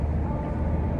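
Ford Figo second-generation diesel hatchback at full throttle, a steady low engine drone with road and wind rumble filling the second without a break, close and loud.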